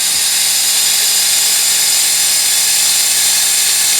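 Steady hiss and hum of a small air compressor feeding air assist to an Atomstack laser engraver, a constant close whirring drone with no change throughout.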